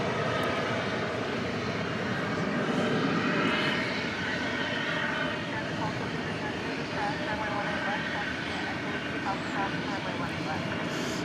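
An airplane taxiing past Terminal D at DFW Airport at night, a continuous moderate engine hum and rumble from some distance, with a voice talking over it.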